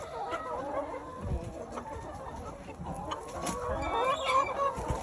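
Chickens on a farm cluck and chatter steadily nearby, with occasional sharper calls rising out of the flock.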